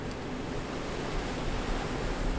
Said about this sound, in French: le bruit des vagues qui se brisent sur la plage.